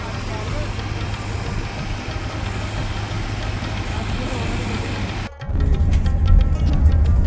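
Generator running near a parked luxury bus at a roadside stop at night, a loud steady low engine drone throughout, with a sudden shift to a heavier rumble near the end.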